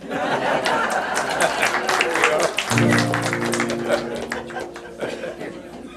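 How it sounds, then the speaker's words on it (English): Applause from an audience at a live talk: dense, continuous clapping mixed with crowd chatter and some laughter, steady and fairly loud for the whole stretch, with a few steady tones showing up partway through. "Everybody, wild applause."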